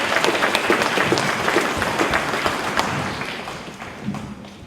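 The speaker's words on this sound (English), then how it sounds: "Give them another round of applause." An audience at a Reconciliation Day event gives a round of applause, dense steady clapping close up that slowly fades toward the end.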